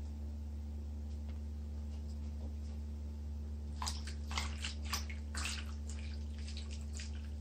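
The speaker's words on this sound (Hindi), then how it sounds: "अब रोटी बनाने से पहले ये जो प्याज है इनको अच्छी तरह मल के धो लेते हैं।" Onions being rubbed and washed by hand in water: wet squishing and splashing bursts cluster in the second half, close and moderately loud over a steady low hum, with no talking.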